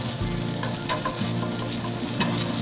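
Mushrooms stir-fry in two tablespoons of hot olive oil for a Southeast Asian vegetable dish, giving a steady, loud close sizzle with a few brief scraping stirs and no talk.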